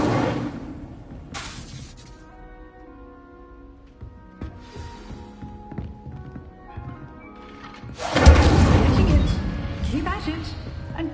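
A fire spell is cast in the Hogwarts Legacy video game, and a sudden loud, crackling burst of flame erupts near the end after a stretch of quieter game sounds and faint clatter.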